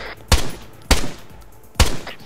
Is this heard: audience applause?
no